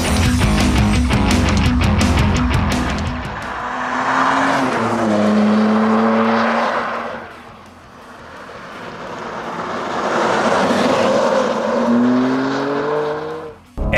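A 2024 BMW M2 with a 460 hp engine and manual gearbox accelerating hard, the engine note climbing through the revs, easing off briefly as gears change, then rising again, loud and close with no talking.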